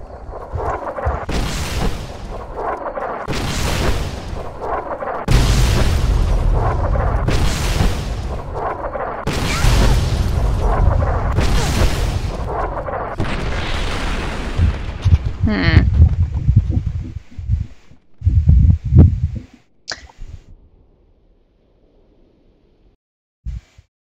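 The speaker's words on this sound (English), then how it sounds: "I wish I could see their bombs." Bombs and missiles explode in a rapid series of loud, heavy booms, each blast rolling out and overlapping the next, before the barrage thins into a few scattered, quieter bangs and fades to near silence.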